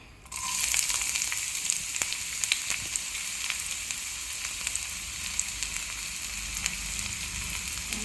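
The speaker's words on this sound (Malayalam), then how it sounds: "എണ്ണ നല്ലോണം ചൂടായിട്ടുണ്ട് ഇനി നമുക്ക് ഇതിനകത്തേക്ക് ഉള്ളി ഇട്ട് കൊടുക്കാം" Onions hitting hot oil in a pan for a bean stir-fry, a sudden burst of sizzling that settles into a steady crackling fry with small pops, fairly quiet and without talk.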